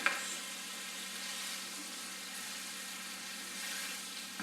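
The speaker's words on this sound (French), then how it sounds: "On fait juste brunir la viande, bien important." Venison sizzling as it browns in a hot pan for osso buco, a steady moderate frying hiss running throughout with no talk.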